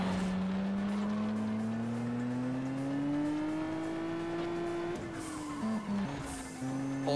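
Racing cars drift in the video game Juiced 2, one engine droning and slowly climbing in pitch, then dipping and wavering as tires scrub, loud and continuous throughout.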